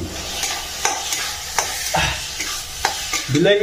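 Tomato curry with small boroli fish cooks in a pan: a soft steady sizzle with repeated stirring scrapes and taps, ending in a louder stir.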